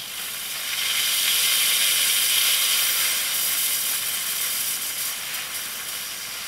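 A 556-filled electrolytic capacitor under power gives off a steady, loud broadband hiss that holds for several seconds and eases slightly toward the end.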